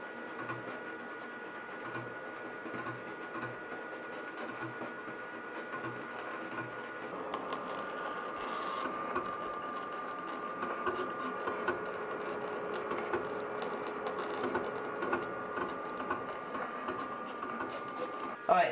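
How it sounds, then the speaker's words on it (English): Graphtec vinyl cutter cutting a shirt design, giving a faint, steady mechanical whir with soft ticking movements that runs continuously throughout. "let's go ahead and send it, the actual design, over to our cutter here and get this design cut"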